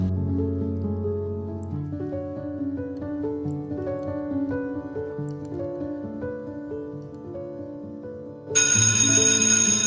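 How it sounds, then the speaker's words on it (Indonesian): A bell chime rings at seven o'clock at a state senior high school in Sleman, Yogyakarta, playing a steady melodic sequence of tones for several seconds before a louder, brighter burst takes over. "Pukul 7, bel berbunyi,"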